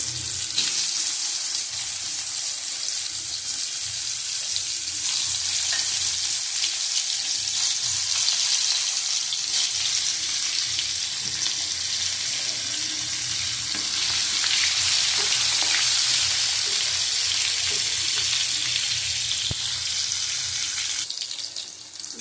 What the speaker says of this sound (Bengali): দেখো পটল ভাজা হয়ে গেছে